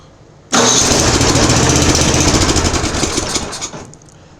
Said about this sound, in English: So let's see if we can get it back fired again.